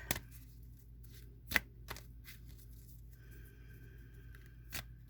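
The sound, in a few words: shuffling a deck of tarot cards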